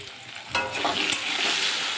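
Sliced potatoes sizzle steadily in hot oil with cumin seeds in a wok, a close, continuous frying hiss that grows louder and denser after a brief stirring clatter.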